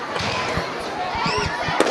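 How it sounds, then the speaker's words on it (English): Fireworks going off outside a high school football stadium at night, a quick run of muffled pops and thuds heard at a distance through steady crowd and stadium noise, with voices talking. "And we got fireworks again from outside the stadium."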